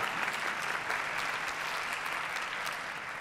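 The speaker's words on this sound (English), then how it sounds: "Because warriors, yes, you can applaud for that." Audience applause at the 2022 National Maternal and Infant Health Summit, a dense, steady wash of many hands clapping that holds at an even level for the whole stretch.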